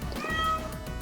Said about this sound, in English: No, we have a cat.